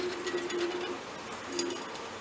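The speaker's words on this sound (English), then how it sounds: "The parakeets." Pet parakeets in an indoor room with reptiles, giving soft repeated calls and cooing notes, fairly faint and distant over a background hum.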